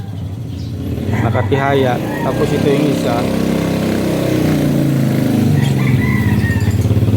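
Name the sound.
passing motorcycles on roadside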